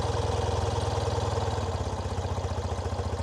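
A cold BMW Airhead motorcycle engine idles with a rapid, pulsing low thrum, running slightly unevenly and steady throughout, close by with no talk.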